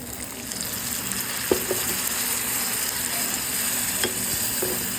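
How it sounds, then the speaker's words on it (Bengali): Dried fish and flat beans fry in a pan with a continuous close sizzle, broken by a few sharp scraping clicks as they are stirred. "সেখানে এটাকে ভালো করে নাড়িয়ে নিই।"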